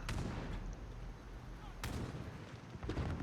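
Gunfire rings out in a sniper and run-and-gun fight in Call of Duty: Modern Warfare (2019), with sharp shots near the start, a loud crack midway and more shots near the end over a rumbling battlefield bed.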